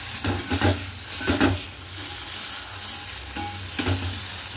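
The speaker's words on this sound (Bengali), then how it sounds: "এটা নুন হলুদ দিয়ে ভাজা ভাজা করে নামিয়ে নেব" Banana stem frying in oil with a spice tempering, a steady close sizzle with several soft scraping stirs of a spatula across the pan.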